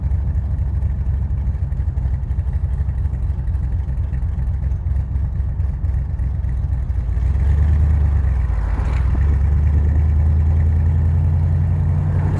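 A Shelby Ram Cobra with a Tremec gearbox drones loudly as it is driven, a rough, steady engine note that deepens and swells partway through as the car pulls harder, with no voices.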